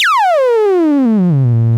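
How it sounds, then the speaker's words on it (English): A single bright Eurorack modular synthesizer oscillator tone sweeping smoothly downward in pitch, rich in harmonics, settling into a low buzzing drone. "let's just take a listen to our oscillator"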